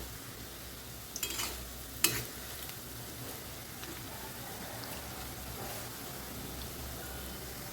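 Ripe banana fritters fry in a pan of oil with a faint, steady sizzle, interrupted by two sharp clinks of a utensil early on.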